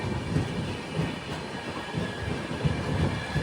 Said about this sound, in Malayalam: തുറന്നകല്ലു സ്റ്റേഷനിലേക്ക് ഇതാ ട്രെയിൻ എത്തി